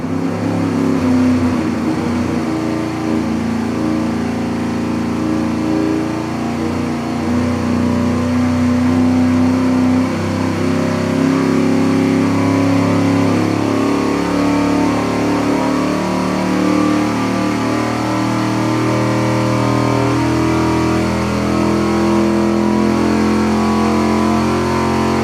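A car engine runs on a dynamometer during cam timing tests, a loud, steady mechanical roar that climbs gradually in pitch as it revs, close and continuous without talk.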